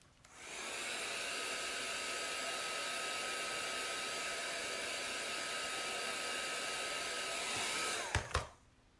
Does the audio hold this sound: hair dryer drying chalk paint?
yes